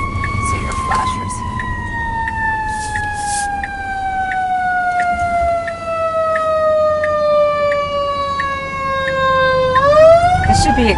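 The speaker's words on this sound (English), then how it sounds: "we're hearing sirens." A loud emergency vehicle siren holds a long, slowly falling tone, then sweeps up sharply at the end, close by over road noise.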